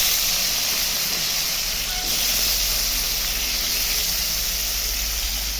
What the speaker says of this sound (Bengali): ওই তেলে বাঁধাকপির আলুটা ভেজে নিচ্ছি